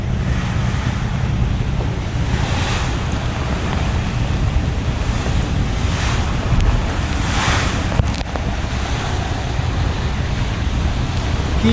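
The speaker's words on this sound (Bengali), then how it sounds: "কি পরিমাণ ঝড় বৃষ্টি বইতেছে শুধু লক্ষ্য করুন আপনারা" Storm wind and heavy rain lash a passenger river launch on a night trip to Dhaka, a loud, constant roar of gusts and spray battering the microphone, with swelling surges of wind and water and no talk.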